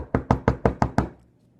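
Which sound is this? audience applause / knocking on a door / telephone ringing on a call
knocking on a door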